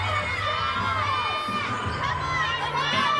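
A sellout crowd of more than 15,000 cheers and shouts inside the Huntsman Center at a women's gymnastics championship, a loud and sustained roar with high-pitched yells.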